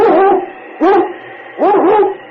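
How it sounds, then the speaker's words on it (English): A sled dog barks in an old radio adventure drama set in the Yukon Northwest: three loud, close bark bursts with howling, wavering tone, spaced about 0.8 seconds apart, heard alone. "It's Yukon King, swiftest and strongest lead dog of the Northwest"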